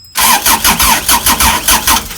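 A narrowboat engine is cranked again at a canal lock landing, repeated rhythmic starter-motor chugs turning over steadily and loud at close range with no voices.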